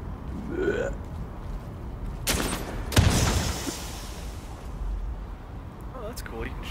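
Gunfire in The Division video game as shots are aimed at a vehicle's tires, heard as a few sharp broadband cracks with one louder report, under ongoing talk and game ambience.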